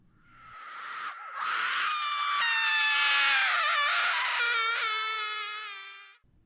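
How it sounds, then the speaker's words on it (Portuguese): A single drawn-out, wavering high-pitched scream rises and falls for several seconds, then cuts off into quiet. "Um estranho grito de mulher."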